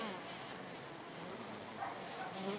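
Honey bees crowded at a hive entrance during a linden-flow period, giving a steady close buzzing hum with broadband hiss throughout, a few brief brighter tones rising near the end.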